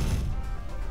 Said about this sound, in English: I'm just gonna fire a missile in there, because fuck this place